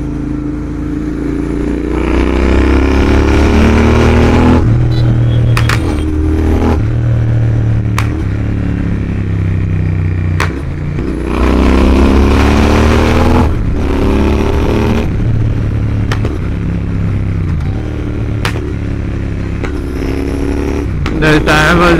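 A Royal Enfield Interceptor 650 parallel-twin motorcycle runs hard at speed with a loud, steady engine drone and repeated rises and drops in pitch as it accelerates through gear changes, with heavy wind blast throughout.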